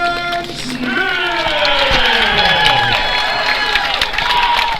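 A loud crowd cheers and shouts as MMA fighter Damon Smith enters the cage for his debut at a Greater Michigan championship event, with an announcer's amplified voice ringing over the roar.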